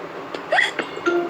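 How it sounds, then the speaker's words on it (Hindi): A cartoon pig in the Peppa Pig cartoon hiccups several times in quick succession, each hiccup a short, squeaky, voiced burst close up, with faint background sound between them. "जॉर्ज, हिचकियां लेना बंद करो।"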